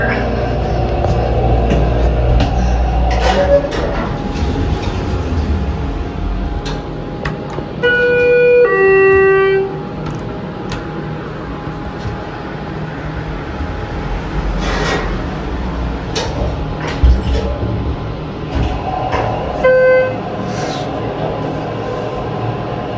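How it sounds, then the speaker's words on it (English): Machine room ambience of a Schindler 330A hydraulic elevator: a steady low mechanical hum and drone, with a brief tonal chime sequence in the middle and a few faint clunks, no talking. "We are not going up again, but we are gonna listen to it."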